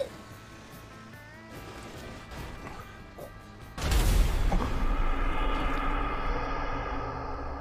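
A car explodes in the game GTA during a roleplay session, a sudden loud crashing boom that breaks over driving engine noise and leaves a sustained roaring rumble afterward.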